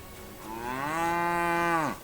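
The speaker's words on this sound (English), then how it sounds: "A cow!" A single loud, close cow moo from the video game Kingdom Come Deliverance 2, set in the fields of Bohemia, rising in pitch then holding steady for about a second before dropping off abruptly.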